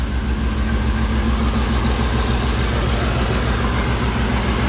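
A Ford SVT Lightning pickup truck's engine idles nearby with a steady, loud, low rumble that holds constant throughout, without revving or speech.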